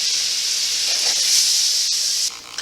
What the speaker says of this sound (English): The next step is to melt butter in a frying pan for frying.